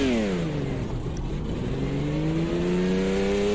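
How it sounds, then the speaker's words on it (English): A race car in the simulator Automobilista 2 (AMS2) starts up and pulls away, its engine note dipping and then rising in a smooth, loud, close drone with no talking. "This car takes so long to start."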